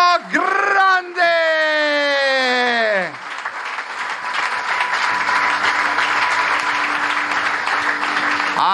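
A loud horn or siren-like blare with falling pitch opens a season presentation event, then a large audience breaks into dense, steady applause with scattered cheers and a low sustained tone underneath.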